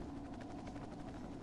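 Helicopter in the game Marc Ecko's Getting Up: a steady, dense rotor whir with a fast pulsing beat, continuous and fairly faint throughout the short stretch.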